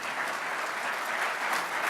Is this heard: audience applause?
yes